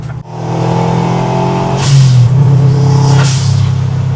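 A Subaru WRX engine swapped into a 1973 VW Beetle revs hard and close, with two sharp hissing whooshes of a turbo blow-off valve venting between the revs.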